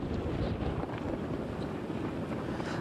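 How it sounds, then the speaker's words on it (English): Strong gusting wind buffets a microphone outdoors during a news report, a loud, continuous low rumble and roar with no speech over it. "these gusting winds are intense today"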